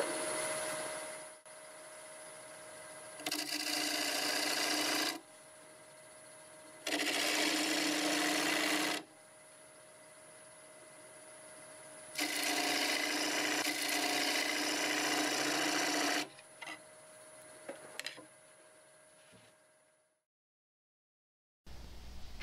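A parting tool cuts a tenon on a wooden workpiece spinning on a lathe: four harsh scraping bursts of a couple of seconds each, separated by quieter stretches of the lathe running, then the machine winds down.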